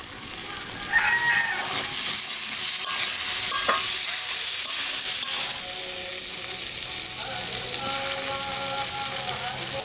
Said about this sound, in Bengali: মশলাটা একটু ভাজে নিলাম। এখানে দিয়ে দেবো টমেটো।